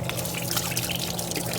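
A pump moves water beside a walk-in freezer, a steady close gurgling flow over a low motor hum.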